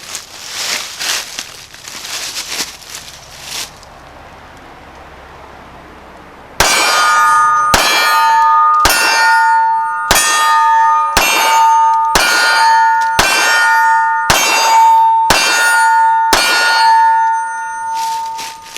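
Ruger Security-380 pistol fired at a range, ten sharp evenly spaced shots with ringing metallic clangs, likely from steel targets, following some quieter handling noise.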